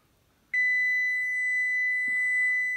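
A kitchen oven timer sounds during sourdough bread baking as one sustained high electronic tone that starts abruptly and holds steadily, close and loud, with no talk.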